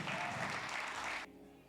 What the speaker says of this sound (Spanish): aplaude a Dios y lo va a aplaudir